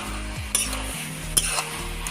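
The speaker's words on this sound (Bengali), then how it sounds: "এরপর একটু ঘন ঘন নাড়তে থাকবে," Ash gourd and coconut prawn curry stirred in a pan, with close spoon scrapes and clinks over a steady sizzle and two sharper knocks against the pan.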